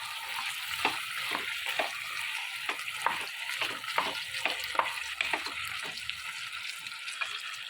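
Ground paste sizzles and fries in a pan for chicken curry, a soft continuous crackle broken by a steady series of scraping stirs, close and fairly quiet.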